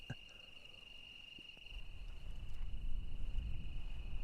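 A steady, high cricket chirp rings continuously at night at a desert mountain campsite, with a low rumble of background noise rising underneath.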